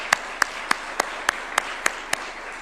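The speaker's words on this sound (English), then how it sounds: "Please, if they can rise up so that we can applaud them." Eight sharp, evenly spaced hand claps in a steady rhythm at a presidential bill-assent ceremony honoring parliament's finance committee. The claps are fairly close and stand out clearly against a quiet room.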